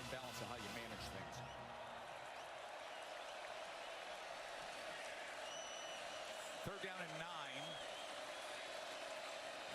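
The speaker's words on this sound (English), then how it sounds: "As you can hear the crowd here at DKR bubbling up in support of their defense" Big stadium crowd at Texas's DKR roaring steadily in support of the defense during a San Jose State vs Texas college football game, a dense sustained wash of cheering throughout, with a commentator speaking briefly over it.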